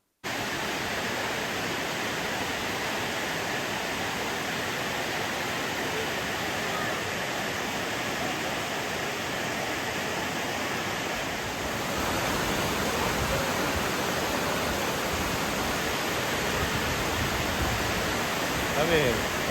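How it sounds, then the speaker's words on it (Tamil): At Courtallam, a waterfall roars as a dense, unbroken wash of white noise, loud and close, swelling slightly in the second half with no other sound standing out. "இந்த குற்றால அருவியோட சத்தத்தை கேட்டு என்ஜாய் பண்ணுங்கள்"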